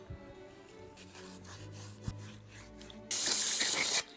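A short, loud burst of brake cleaner spray hisses onto scuffed wire being prepped for soldering, lasting about a second near the end after quieter rubbing and handling noises.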